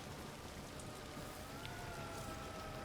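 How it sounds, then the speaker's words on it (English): Rain falling in the video game Death Stranding 2: On the Beach, a dense, even wash of steady rainfall with a faint high tone rising in the background. "I am a little afraid that it's still raining."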